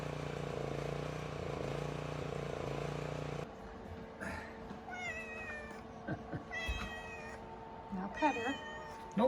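A cat meows several times close by in a garage or driveway, short rising cries following a steady engine-like drone that cuts off partway through, with faint background noise between the calls.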